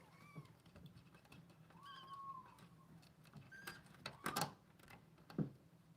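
A cat gives several soft, quiet meows spread out over a few seconds, with faint clicks and rustling in a hushed room.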